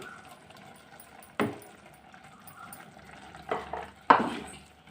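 A wooden ladle stirs masala and cashew paste into a gongura meal maker curry in a clay pot. Soft scraping and occasional sharp knocks against the pot sound close by over a quiet background.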